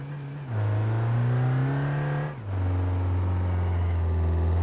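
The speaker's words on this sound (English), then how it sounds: "now just a regular diesel engine, you know, it's gonna perform and sound like a diesel" A diesel 2.2 car engine in the BeamNG driving game drones steadily as it accelerates, with a brief dip like a gear change before the pitch climbs again, loud and alone.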